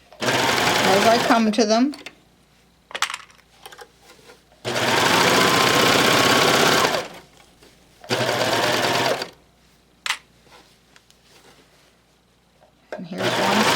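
A serger runs in several loud bursts while finishing an infinity scarf, its fast buzzing motor starting and stopping between stretches of quieter handling. A person speaks briefly between the bursts.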